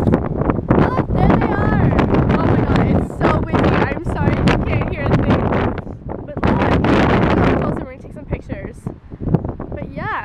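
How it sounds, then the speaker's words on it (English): Strong wind buffets the microphone outdoors in loud gusty bursts, with people talking throughout and the roar easing briefly toward the end. "It's so windy."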